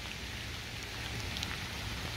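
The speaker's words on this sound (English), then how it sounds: "It's a rainy morning." Steady rain falling on a rainy morning, a soft even hiss with faint scattered drops, continuous and low without any voices.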